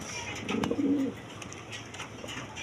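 Pigeons of several breeds in a coop give a single brief, soft coo near the start, followed by quiet ambient noise.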